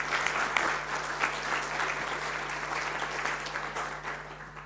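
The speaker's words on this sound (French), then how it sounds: "On peut l'applaudir" An audience applauds after a talk on digital learning with a steady, even wash of clapping that is faint and slightly distant. It lasts several seconds, with a low electrical hum underneath.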